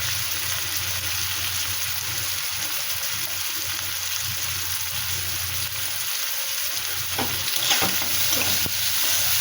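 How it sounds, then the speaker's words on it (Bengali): Prawns frying in a pan with chilli powder, a steady close sizzle throughout with a few sharper crackles and stirring scrapes near the end. "এবারে আমি এই চিংড়ি মাছগুলো দিয়ে দিলাম"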